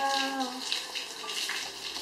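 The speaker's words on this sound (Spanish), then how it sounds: "Está lloviendo. Está briseando." A soft, steady hiss of falling water patters nearby, with a faint tonal hum at the start and no talking.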